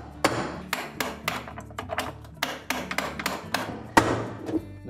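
A spanner wrench is worked against the drive tube nut on a GE washing machine, producing a run of sharp metallic clanks and taps, close and evenly spaced, with no talk.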